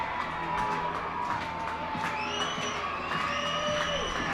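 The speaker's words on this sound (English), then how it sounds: "Crowd going wild here" Crowd noise at a minor-league baseball game between the Bowie Baysox and Reading Fightin Phils, a broad murmur with rising whoops and whistles and sporadic claps throughout, moderately distant and fairly quiet.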